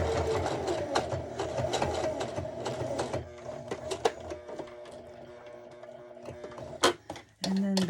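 A sewing machine stitches an ID holder, its steady mechanical whir running loud and close for about three seconds, then stopping and restarting in short back-stitch bursts with pauses between.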